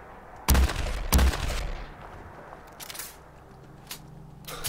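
The unique Star Carbine firing in Fallout 4: two loud, sharp shots about half a second apart, followed by fainter scattered cracks and echoes.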